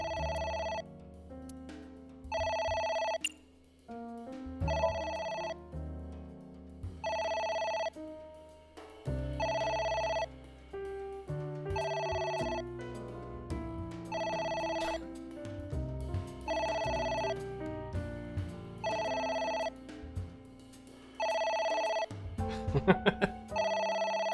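A telephone rings repeatedly in the video game AI: The Somnium Files, with regular bursts of ringing spaced out over background game music and no voices.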